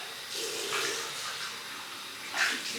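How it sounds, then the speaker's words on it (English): Water splashes and runs from a tap as whiskers are rinsed during a shave, a soft close trickle with a brief louder splash near the end. "Let's rinse them whiskers down."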